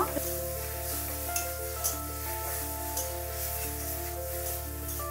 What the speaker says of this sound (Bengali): শাকটাকে এইভাবে অনবরত নেড়ে চেড়ে কিছুক্ষণ সময় ধরে রান্না করে নিব।